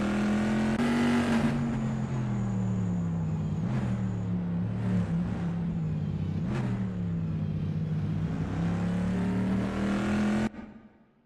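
Bizzarrini race car lapping Imola in a racing video game, its engine droning loud and steady with harmonic pitch sweeps through gear changes and corners, a few brief higher-pitched rises, then cutting off abruptly near the end.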